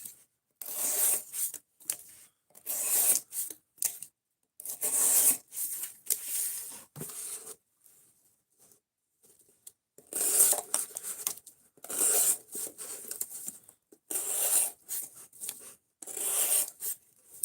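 A Benchmade Mini Bedlam knife with S90V steel slices through material in repeated short, crisp rasping strokes, close and fairly quiet, with a brief pause in the middle.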